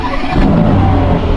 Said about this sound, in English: Have I ever started up a Black Series before?